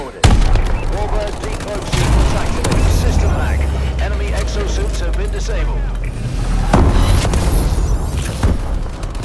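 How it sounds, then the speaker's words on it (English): Missile strike explosions in Call of Duty: Advanced Warfare multiplayer Domination, a dense barrage of booming blasts and gunfire rumbling continuously, loud and close, with sharp impacts near the start and end. "Friendly missile strikes incoming."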